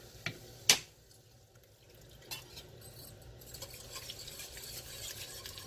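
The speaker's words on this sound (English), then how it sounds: "I'm going to switch over to a whisk" Metal whisk stirring a pot of curry chicken and rice soup, a soft continuous swishing with a couple of sharp clinks against the pot early on, fairly quiet and close.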